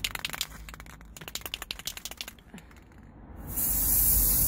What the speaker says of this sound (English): So I'm going to spray paint them now.